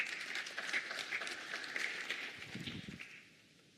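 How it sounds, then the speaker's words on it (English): Audience applause for a speaker at a sustainable industries conference in South Africa, a fairly faint, dense patter of clapping that tapers off near the end. "Give him another big round of applause."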